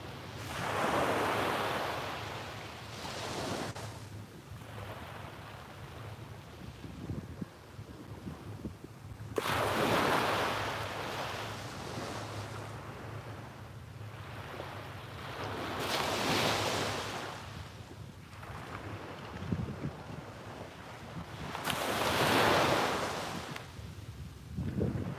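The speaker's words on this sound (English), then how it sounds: "Soak in the sounds of the waves and the colors and set our intentions for the day." Ocean waves breaking on the shore at sunrise, with four broad surges swelling and fading in slow succession over constant wind rumble, no voices.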